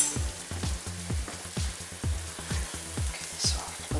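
Beef patties sizzle and spatter in hot olive oil in a pan, a close, steady crackle of frying with rhythmic pops and no talking.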